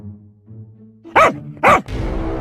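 A dog in a video game barks twice in quick succession, two loud, sharp woofs about half a second apart, followed by a burst of game noise.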